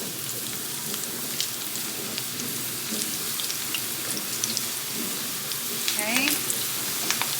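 Potato slices for homemade chips sizzle steadily in hot oil over medium-high heat, a dense crackling hiss that lasts throughout, with occasional stirring clicks and a brief spoken word.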